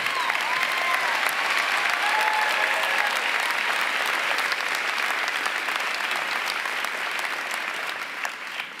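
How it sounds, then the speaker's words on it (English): A large commencement crowd at a university of the arts applauds the soloists, a dense, sustained wash of clapping that slowly fades toward the end. "So let's give a round of applause to the soloists"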